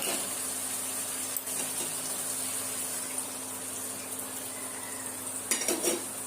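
Chicken with salt, turmeric, chili powder and coriander paste being stirred and sautéed in a pan, with a steady low frying hiss, scattered scrapes and clinks of a utensil against the pan, and a brief clatter near the end.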